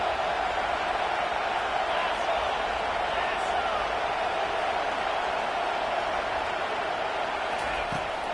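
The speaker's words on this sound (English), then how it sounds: "Here comes the crowd trying to make it tough on 3rd and long." A stadium crowd at a Clemson versus FSU college football game sends up a steady, distant roar on a third-and-long play, with a commentator talking over it.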